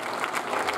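A congregation at a New Year church service applauds a children's choir, a brief wash of steady clapping heard from within the crowd.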